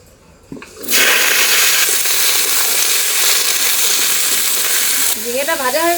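Ridge gourd slices dropped into hot oil in a home kitchen, bursting into a loud, steady sizzle and crackle that holds for several seconds, followed by a brief stir and a few clinks near the end.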